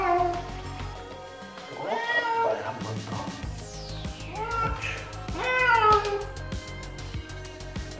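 A cat meows repeatedly while being bathed, with drawn-out, rising and falling cries spread across the stretch and water and handling noise underneath.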